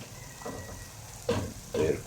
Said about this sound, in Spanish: y que se sofría bien los ajíes, para hacer nuestro seco de cordero